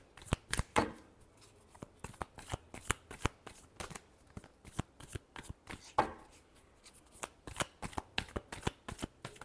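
Tarot cards are shuffled by hand in quick, crisp riffles and slaps, repeated bursts of papery clicks with brief gaps between them, close and fairly quiet.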